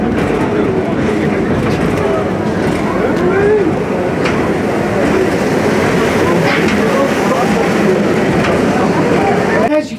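A tram rolls through a dark tunnel, a loud steady rumble of wheels and clattering rails with occasional metallic clanks, as people talk over it.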